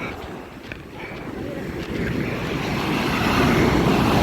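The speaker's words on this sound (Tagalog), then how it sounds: "enjoy natin yung napakalakas na alon na yan" Loud, continuous roar of strong ocean surf and rushing water at Sibang Cove, building steadily in strength, with wind buffeting the microphone and a faint voice in the background.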